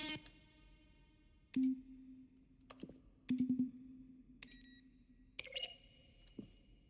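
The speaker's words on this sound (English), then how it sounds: "When buttons are pressed, each sound is a mix of a keyboard stroke and a synthesized tone." Button presses in the game The Stanley Parable, each a keyboard click blended with a synthesized tone: a handful of sharp ticks spread over several seconds, several followed by short steady electronic beeps, quiet against a soft hum.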